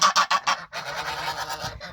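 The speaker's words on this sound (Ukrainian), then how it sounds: "Хоча біля них є гусаки." Farmyard geese honk in a quick run of loud, close calls, then keep up a busier, overlapping chatter of softer honks from the flock.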